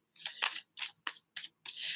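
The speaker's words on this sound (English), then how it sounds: "This is interesting being on camera doing shuffling." Tarot cards shuffled in short crisp riffles and slides, about six quick bursts, close and quiet.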